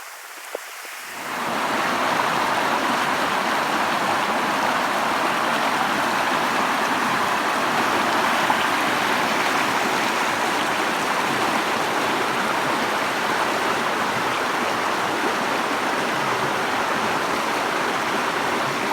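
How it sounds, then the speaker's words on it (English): A full creek rushing steadily on a wet, inclement day, a broad continuous wash of flowing water heard close and loud, rising in after a brief quiet start and holding constant for the rest of the stretch with no voices. "I'm heading down to the creek. I know we've seen the creek when it's been full before, but I just love the sound of it."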